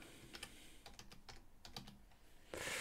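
Typing on a computer keyboard: a short run of close, light key taps in an irregular rhythm, followed by a louder rush of noise at the end.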